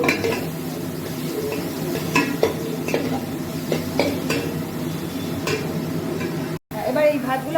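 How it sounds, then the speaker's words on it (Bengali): Cooked rice is stirred in a pan on a gas stove, with repeated scraping and clinks of the utensil against the pan over a light sizzle, and a voice talks at moments. "এবার এই ভাতগুলো আস্তে আস্তে ধরে গ্যাসটা কম না, নাড়তে থাকো, নাড়তে থাকো।"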